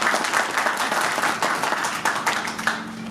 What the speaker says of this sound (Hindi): एक बार जोरदार तालियां हो जाए सिंगला जी के लिए